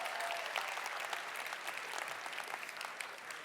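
Audience applause at the Be The Light 2025 event for two musicians after their song; a dense, even patter of clapping from a crowd continues throughout.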